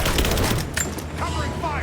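Suppressing gunfire in the video game Rise of the Tomb Raider, a dense burst of shots up front that tails off as shouting voices take over.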